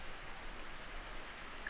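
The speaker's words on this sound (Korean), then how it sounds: "빗소리가 자장가인 모양인데요" Steady rain pouring down over a mountain home on Jirisan, a soft, even hiss of falling drops heard from a distance with no voices.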